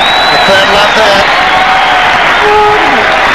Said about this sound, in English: The crowd love that.